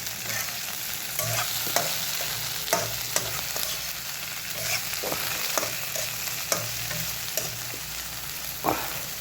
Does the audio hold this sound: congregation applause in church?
no